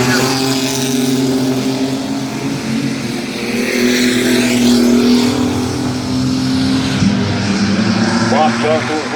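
Mini trucks racing on the Midvale Speedway oval, a loud continuous engine drone with passing swells and revving, under a race announcer's ongoing commentary.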